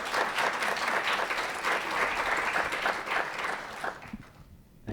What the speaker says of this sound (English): let's give them a round of applause just to start it off